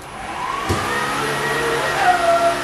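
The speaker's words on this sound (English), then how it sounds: "Taking a vacuum." Household vacuum cleaner running steadily indoors during a day of Christmas decorating, a continuous whine with a brief thump early on, close and moderately loud with no talking.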